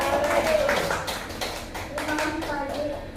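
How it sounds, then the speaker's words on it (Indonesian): A room of people claps for Pak Edi at a school session on positive discipline culture; scattered hand claps patter steadily through the clip under a continuing speaking voice. "tepuk tangan untuk Pak"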